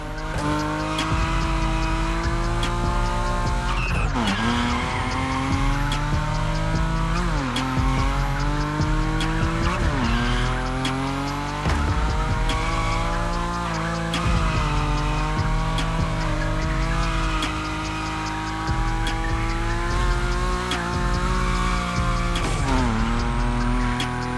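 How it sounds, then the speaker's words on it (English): Nissan Nismo sliding at high speed in The Crew Motorfest racing game: a loud, continuous engine roar rising and dropping in pitch through gear changes, with tire squeal throughout and no talking. "Your Nismo is powerful enough to slide along on its own when you're at high speed"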